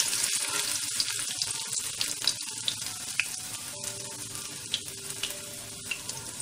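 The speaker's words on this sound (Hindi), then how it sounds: "सबसे पहले लहसुन दीजिए आप लहसुन थोड़ा भून जाए" Steady sizzling of garlic frying in a pan, with occasional sharp crackles and pops over a continuous hiss; no talking.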